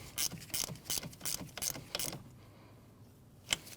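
A ratchet tightens the battery terminal nut on a 2012-2016 Honda CR-V, giving about seven quick close clicking strokes in a steady rhythm, then a pause and one last click.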